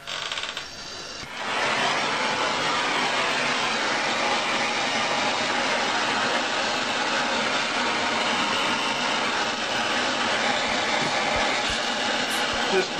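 A torch roars steadily against half-inch copper pipe being heated for soldering, a loud continuous hiss that starts after a brief click and holds for the rest of the span.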